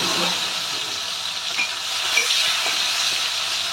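Chopped tomatoes fry in a pan for a homemade Bengali potato and pointed gourd curry, giving a steady, loud hissing sizzle close by that continues evenly throughout, with faint stirring clinks.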